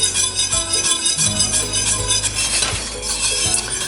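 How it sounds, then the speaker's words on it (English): Crushed strawberries stirred constantly in a pot on medium heat for freezer jam, a spoon scraping and clinking against the pot in a steady, busy rhythm, close and fairly loud. "Stirring constantly."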